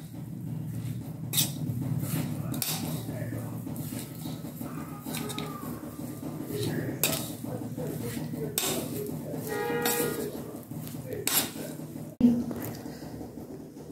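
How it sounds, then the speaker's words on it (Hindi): Aloo cheela batter with besan and hing is mixed in a bowl, giving steady soft scraping and stirring with scattered clinks of a spoon against the bowl throughout. "अब इसको हम अच्छे से मिक्स कर लेंगे।"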